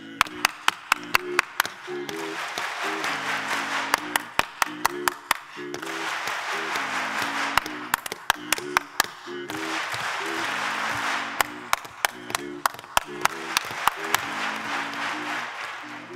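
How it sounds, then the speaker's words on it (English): An audience at a barbershop chorus contest claps in sharp, rhythmic bursts over sustained harmonised singing. The crisp hand claps repeat in patterned groups throughout. "What I really, really want is everybody to clap after me."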